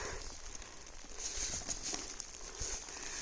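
Heavy rain pouring down outdoors: a soft, steady hiss of drops with faint patter, fairly distant and quiet, with no voices.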